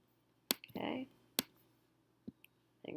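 Crisp computer mouse clicks, a few sharp isolated taps spaced apart, close and fairly quiet, with a brief voice sound between them.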